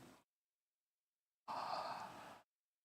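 A person yawns once, a breathy exhale of about a second standing alone after a brief trailing breath and a pause of silence.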